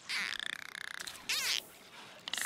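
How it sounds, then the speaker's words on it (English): Dolphin calls from the Sims 4 Island Living game: a rapid chirping trill followed by a sweeping, warbling whistle and a brief squeak at the end, close and fairly loud, with no talk over them. "I just love the dolphin noises"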